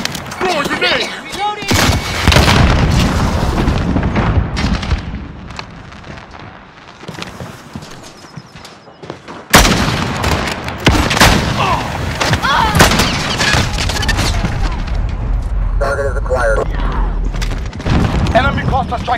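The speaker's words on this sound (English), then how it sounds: "Throw a grenade!" A grenade goes off amid heavy combat in Call of Duty: Modern Warfare multiplayer, one loud, abrupt boom standing out from steady gunfire and explosions, with voices calling out over the battle.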